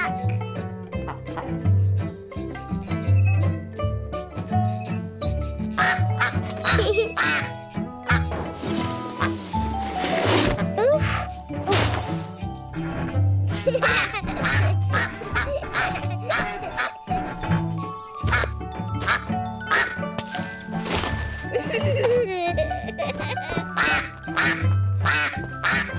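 Cartoon duck quacking on a farm, repeated honks over a bouncy music bed with tinkling chimes, loud and up close throughout.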